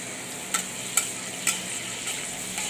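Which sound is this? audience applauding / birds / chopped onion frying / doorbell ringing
chopped onion frying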